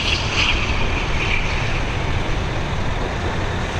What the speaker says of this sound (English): Here we go, another ATR 72-600, this time in that old livery.